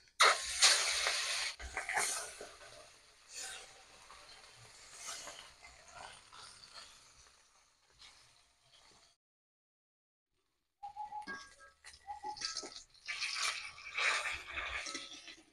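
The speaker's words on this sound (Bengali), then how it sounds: "এবার এই বাটা মাছটা ভেজে নেব।" Bata fish frying in hot oil gives a steady, crackling sizzle that fades away. It falls silent for a couple of seconds, then returns as a brighter, spitting sizzle.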